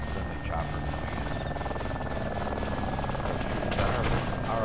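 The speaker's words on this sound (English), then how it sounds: "Let's see if this is our friendly chopper coming in." Friendly helicopter approaching in a realistic PC war game, a steady rotor drone with a high whine and scattered gunfire, continuous throughout while voices talk over it.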